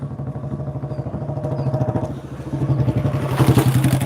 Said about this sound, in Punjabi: ਬਈ ਜਾਂਦਾ ਬੁਲਟ